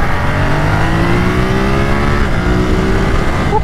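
A 2023 Ducati Monster SP motorcycle engine revs loudly and continuously up close, its pitch climbing steadily through the gears with a dense, buzzing exhaust note.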